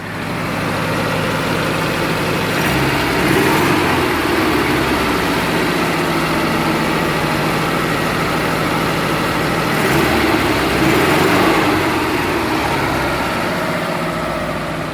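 A vintage car engine idles steadily with a low, rough rumble, swelling slightly in loudness a couple of times, with no voices.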